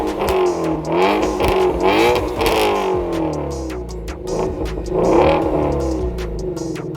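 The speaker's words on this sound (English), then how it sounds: "that is probably one of the best stock sounding V8 engines, period" Ford Shelby GT350 with its 5.2 liter V8 and stock exhaust revs repeatedly: several rising and falling throttle blips with a deep, crackly growl, loud and close, with no talking over it.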